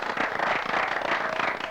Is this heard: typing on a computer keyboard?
no